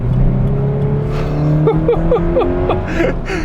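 A Subaru BRZ tS floored at full throttle through a sweeping bend, its engine loud and close, the revs climbing steadily in pitch for a few seconds with a sharp rasp at the top.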